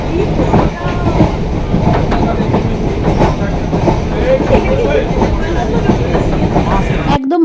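A passenger train heading toward Tarakeswar through dawn mist rumbles loudly from inside the carriage. Its wheels beat a rhythmic clickety-clack under faint background chatter, and the sound cuts off abruptly near the end.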